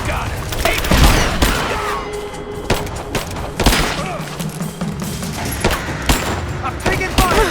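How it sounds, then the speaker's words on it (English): Rapid bursts of gunfire, heavy thuds and crashes fill a firefight in the video game Rise of the Tomb Raider, shots cracking irregularly and close while combat voices shout over the din. "I'm taking fire!"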